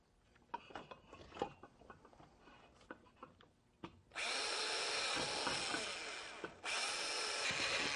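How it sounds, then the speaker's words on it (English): Scattered taps and clicks of handling, then a power drill whirs loudly in a long sustained run drilling out the back of a found object sculpture, stops briefly, and starts again. "we'll proceed with drilling out the back."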